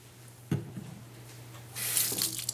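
Cool water rinses an alginate dental impression at a sink: a brief splash, then a steady, close hiss of running water that swells louder toward the end.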